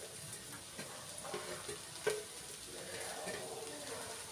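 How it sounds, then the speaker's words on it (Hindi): Food being stirred and mixed in a hot pan, with a soft, steady sizzle and scraping strokes of a spoon, one sharper clink near the middle, and no talking. "और अच्छी तरह से मिक्स कर दूंगी।"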